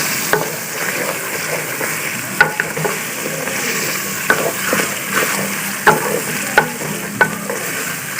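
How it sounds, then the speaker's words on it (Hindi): Chicken browning in a pot for nihari gives a steady sizzle and frying hiss, with a spoon stirring and knocking against the metal at irregular intervals. "इसको 5 से 7 मिनट तक अच्छी तरह भूनना है।"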